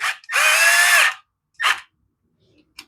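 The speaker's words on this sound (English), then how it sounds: "You can hear the tool rubbing against the carburetor body." A tool rubs against a go-kart carburetor body, giving one long high whirring grind followed by a shorter second burst and a faint tick, close and clear.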